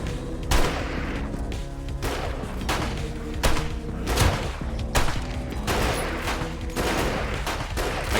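Pistol shots in the survival game 7 Days to Die, a string of sharp, evenly spaced reports about once a second, loud and close over a low rumbling backdrop.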